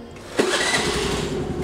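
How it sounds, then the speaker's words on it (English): A Vogo rental scooter's engine catches and then runs at a steady idle, its close, continuous mid-range hum holding level after a short start-up burst. "After 10 seconds, the engine will get on"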